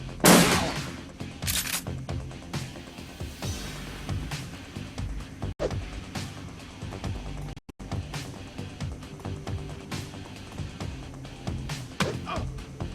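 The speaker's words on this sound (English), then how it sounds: "Shotgun is just so good in this game." Rapid shotgun blasts and gunfire from the Shadowrun Returns video game, a dense continuous barrage of loud bursts layered with game sounds, opening with a sharp blast and staying busy throughout.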